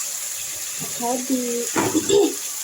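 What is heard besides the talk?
water poured into a cooking pot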